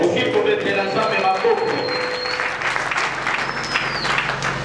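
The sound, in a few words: congregation applauding and cheering loudly in church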